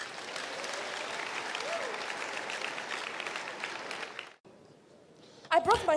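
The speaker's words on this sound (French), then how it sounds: "applaudissez pour Jésus" A congregation at a deliverance prayer service applauds for Jesus, a fairly soft wash of many hands lasting about four seconds. It then cuts off abruptly to quiet, and a voice starts speaking near the end.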